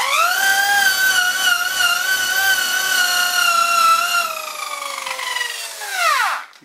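A rotary buffing mop spins against a bar of polishing compound clamped in a vise, giving a loud, steady high whine of harmonic tones that holds for several seconds, then drops in pitch and winds down near the end.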